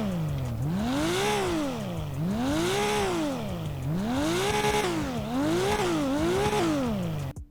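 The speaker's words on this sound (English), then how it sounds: "Now let's take a listen to some revs" A car engine in GTA 5 revs repeatedly, climbing and falling in smooth waves about five times, loud and close with no talk over it.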